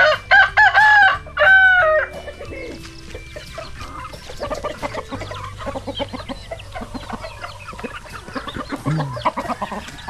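Native Bisaya chickens crow loudly and cluck near at hand while being fed, with a rooster's crows at the start and then busy clucking and scratching throughout.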